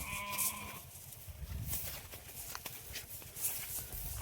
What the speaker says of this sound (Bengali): দেখো শুধু ওদিকে ভেড়াও ডাকছে